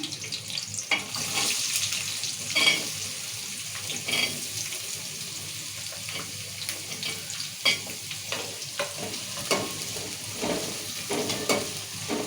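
Onions fry in oil with green chillies in a pan for chicken curry, a continuous close sizzle broken by intermittent stirring scrapes and clinks, with no talking.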